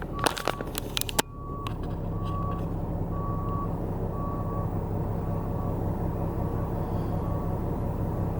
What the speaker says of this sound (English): There's, like, this truck that cannot, like, back up.